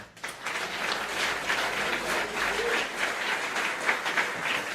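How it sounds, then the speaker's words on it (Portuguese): Congregation applauding during a church sermon: a soft, even patter of many hands clapping throughout, heard at a distance and fairly faint, with no talk over it. "Você pode aplaudir a pessoa dele agora?"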